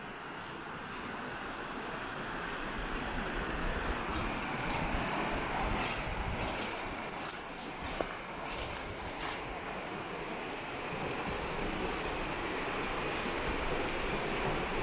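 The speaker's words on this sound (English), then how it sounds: "right here we would be underwater because the river is flowing. Actually, the river looks pretty high" A high river rushing past an abandoned canal lock and dam makes a steady, broad roar of flowing water, loud and continuous throughout with no talk.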